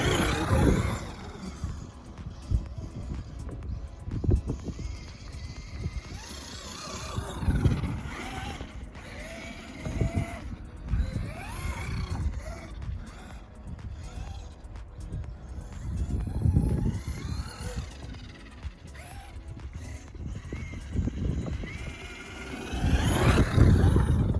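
Whining electric motor of a Traxxas Maxx V2 RC monster truck on a snowy track, rising and falling with throttle bursts, with gravelly crunches under the tires and occasional faint voices.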